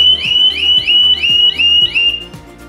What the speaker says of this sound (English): Just to let you know, the Harley has an alarm